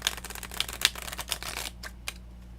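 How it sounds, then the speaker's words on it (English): A tarot deck is shuffled by hand, a quick run of soft papery riffles and taps close up that thins out into a few sparse clicks at the end. "we're going to give this a first time shuffle"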